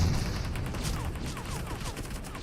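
Bursts of automatic gunfire in a PUBG Mobile 8 vs 8 match, several rapid shots crackling in quick succession at moderate distance, with faint game ambience behind.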